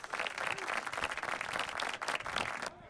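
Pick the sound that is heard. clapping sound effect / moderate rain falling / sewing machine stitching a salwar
clapping sound effect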